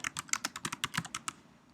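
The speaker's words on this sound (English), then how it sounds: "And so what I'll do is I'll type in social media" Quick burst of about a dozen crisp keystrokes on a computer keyboard, close and clear, a short pause, then two faint final taps.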